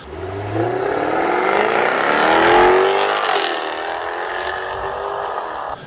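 A Jaguar F-Type R engine revs hard on the street, its loud roar climbing in pitch, peaking midway and then settling into a steady drone, with no voices.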